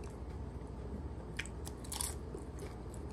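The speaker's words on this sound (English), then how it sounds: "There's the first bite." Someone bites into concha nachos, a close crisp crunch with a few crackling chews over a low background hum, fairly quiet and brief, no talking.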